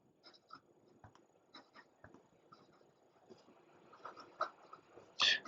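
An OMAS Shakespeare Anniversary Limited Edition fountain pen nib glides over paper in faint, close scratchy strokes with short pauses between them, ending on a louder scrape.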